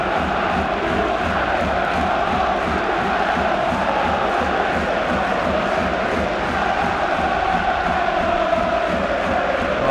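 A sellout crowd at a Mansfield Town versus York City playoff football match keeps up a steady, dense roar of cheering and chanting, loud and continuous throughout with no single voice standing out.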